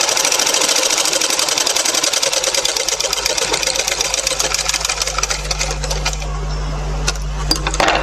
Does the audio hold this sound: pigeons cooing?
no